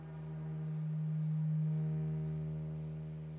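A smooth, sustained wavetable synthesizer pad made in Serum holds one steady, mellow tone that swells gently and fades slightly at the end.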